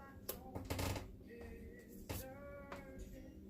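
Scissors cutting a sheet of blue paper at an angle for a collage: several crisp snips and rustles, close and moderately loud, with a little paper handling between cuts.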